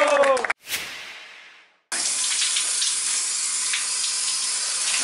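Shower water runs in a steady, even hiss close by, starting abruptly after a brief burst of voices and a short rushing sound.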